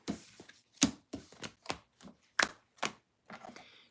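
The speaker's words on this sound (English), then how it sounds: "Do a little shuffle, shuffle." Tarot cards shuffled by hand in a series of crisp riffling bursts, about eight distinct flurries spaced roughly half a second apart, close and fairly loud with no talking.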